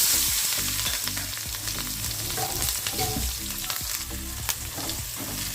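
Green chilies, turmeric and asafoetida frying in hot oil for a mixed vegetable sambharo, a loud continuous sizzle with the clink and scrape of stirring throughout and no talk.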